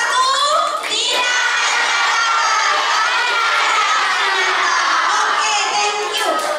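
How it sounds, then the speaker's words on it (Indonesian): Students at a school council (OSIS) chair and vice-chair election debate cheer and shout loudly for the first candidate pair, a sustained crowd roar full of children's voices that stays dense throughout. "kasih tepuk tangan yang meriah untuk pasangan nomor 1"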